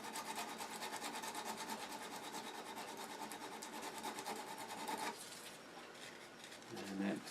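Continuous rasping strokes of 120 grit sandpaper sanding a burr off metal, steady and close, with rhythmic back-and-forth scraping that briefly changes character near the end.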